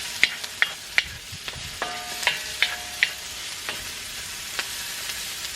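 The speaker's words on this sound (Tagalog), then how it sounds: "Inuna ko itong ginisa before ang karne." Vegetables sizzle steadily in a hot pan, and a utensil scrapes and taps against the pan in a loose rhythm. No one speaks.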